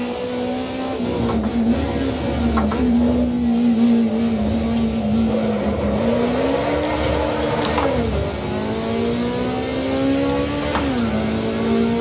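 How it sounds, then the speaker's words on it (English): A Honda S2000 engine in a racing video game holds a high, steady rev, dipping and climbing again in brief shifts, loud and continuous throughout with no voices. "Honda S2000 really revs nicely."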